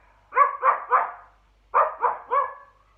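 A dog barks from downstairs at a window in two bursts of three sharp, fairly close barks separated by a short pause.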